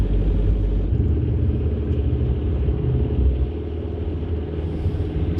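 Cheap old car's engine running steadily, a loud continuous low rumble with a rough droning tone that dips slightly partway through, heard from inside the vehicle with no talking.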